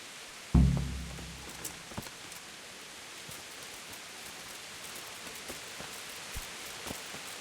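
Steady rain falls in a medieval role-playing game, a soft even hiss throughout, with a heavy thump near the start and faint scattered taps; no talking.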